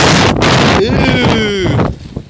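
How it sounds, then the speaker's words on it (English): Strong windstorm gusts buffet the microphone at a camp with a tiny cart house, a loud continuous roar with rushing swells that eases near the end, while a person talks over it. "It is not supposed to blow like this."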